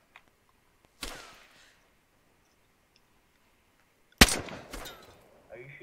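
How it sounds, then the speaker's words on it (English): Gunfire in a first-person shooter game, with two sharp cracks several seconds apart against near silence, the second followed by a quick extra shot and a short ringing tail. "Are you shooting or are they shooting?"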